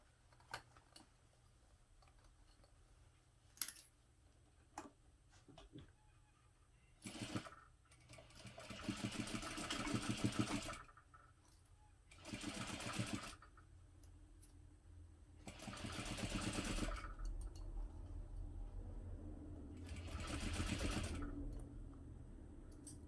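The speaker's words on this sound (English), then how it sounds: "we're going to use a 1/2 inch seam allowance to sew this on" A sewing machine stitches a 1/2 inch seam on a fabric clutch in several loud bursts of rapid whirring, separated by pauses with faint clicks and handling sounds.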